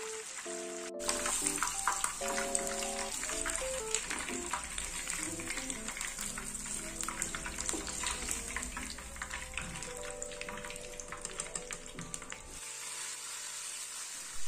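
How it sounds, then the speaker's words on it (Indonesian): Marinated tempeh fries in hot oil, a steady, fairly quiet sizzle and crackle that runs continuously beneath background music. "Dan ini lanjut goreng tempe."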